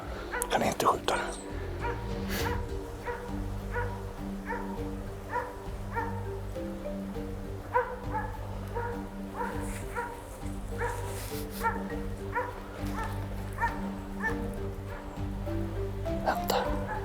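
A hunting dog bays at a moose on a mountain during a moose hunt, a steady series of sharp yelps at a distance, with hushed voices and outdoor background noise underneath.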